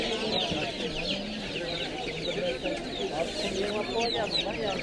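Chickens and chicks cluck steadily at a busy farmers' market where broiler chicks are sold, with crowd chatter and people talking throughout.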